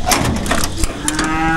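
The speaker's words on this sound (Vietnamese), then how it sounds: "Bò về tới nhà rồi đấy." Cattle arriving home at a farm delivery moo loudly and close, one long low bellow over about a second and a half with a brief break partway through.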